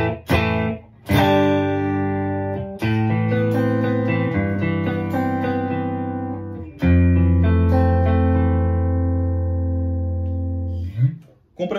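An electric guitar runs through a Strymon BigSky reverb pedal with cabinet simulation, direct into an audio interface in stereo. Loud sustained chords ring out with long, shimmering reverb tails, separated by a few brief breaks between phrases.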